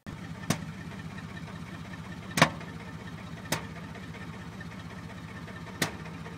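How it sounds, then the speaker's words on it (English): Truck engine idling unevenly with mismatched spark plug wires, giving a steady low rumble broken by four sharp, irregularly spaced chuffing pops, close and fairly quiet. "When I was putting everything back, I had some plug wires mismatched. So my truck was chuffing."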